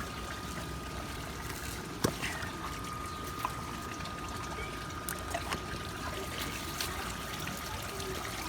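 Koi pond water pumped through a hose to water a vegetable garden, heard as a steady, soft trickling wash with a few faint clicks and no talking.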